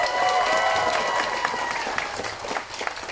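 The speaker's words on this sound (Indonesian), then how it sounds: "berikan tepukan" Applause from a crowd at a Kinabatangan heritage event, a steady, broad wash of clapping with a few voices mixed in.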